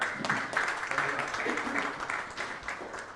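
Applause from the audience at a post-fight boxing press conference, a short burst of moderate clapping that swells and then tapers off, with some voices underneath.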